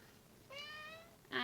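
A cat meows twice, a soft drawn-out mew followed by a sharper, louder one at the end, against quiet room tone.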